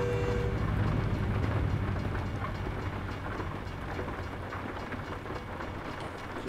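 A train rolls past in the American Truck Simulator video game, a loud rumbling pass that is strongest at the start and slowly fades. No one speaks.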